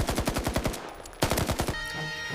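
Machine gun fire bursts out in rapid, evenly spaced loud shots, then a brief pause before another hammering burst, which trails into a lingering ringing tail.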